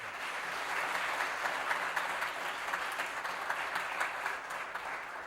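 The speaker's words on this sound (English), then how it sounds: "a huge round of applause" A school board meeting audience gives a teacher a long round of applause, dense, even clapping heard from a distance at fairly low level, steady throughout.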